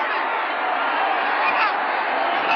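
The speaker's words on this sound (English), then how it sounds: "Wonder who they're cheering for." A huge stadium crowd roars and cheers continuously at a 1986 AFC playoff game between the Patriots and Broncos, a dense, loud, unbroken wash of voices.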